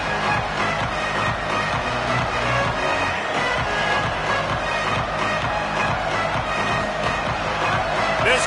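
A dense, continuous roar from a packed college football stadium crowd, Penn State against Ohio State, loud and unbroken throughout with no clear voices standing out.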